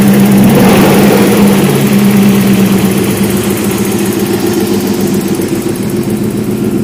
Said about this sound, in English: Idle's a little high, but it was before too.